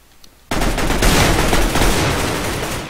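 AK rifle fire in the Minecraft Mineplex Bombs game, a sudden loud burst of rapid continuous shots lasting a few seconds after a quiet start.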